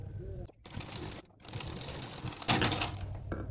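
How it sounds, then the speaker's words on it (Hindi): A sewing machine stitches a straight seam on a blouse with a quiet, rapid mechanical rattle, stopping and starting in short runs while someone talks over it. "अब यहाँ से नीचे की तरफ भी हमें सीधी सिलाई लगाते हुए आना है।"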